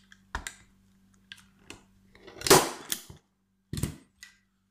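A Parkside stapler drives staples into oak wood, giving several sharp, separate snaps spaced irregularly over a few seconds, one with a longer rustling burst, close and clear against near silence.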